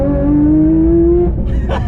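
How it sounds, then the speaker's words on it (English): A Porsche 992 911 GT3 flat-six drives hard in the canyons, its loud close engine note climbing steadily in pitch through one gear before a brief shift and rough drop in tone. "The 992 GT3 is an absolute monster in the canyons, and it sounds so damn good."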